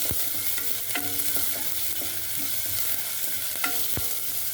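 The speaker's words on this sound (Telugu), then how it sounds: "నూనె పోసినాక ఉల్లిపాయలు వేయాలి. ఉల్లిపాయలు గోలుతుంటే" Onions fry in oil with a steady sizzle while a spoon stirs and scrapes the pan in occasional sharp knocks and clinks.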